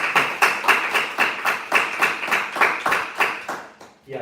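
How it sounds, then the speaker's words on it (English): A live audience at a health technology event in Boston claps in a rhythmic, rather synchronized beat that is loud and near, the pulses repeating about every quarter second before fading out at the end. "A big clap for all of you."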